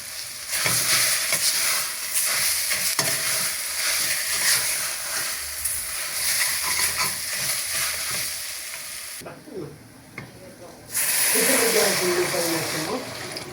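Potatoes sautéing in a pot for Turkish vegetable soup, a loud steady sizzle and frying hiss that drops away briefly before returning, with a voice speaking over part of it.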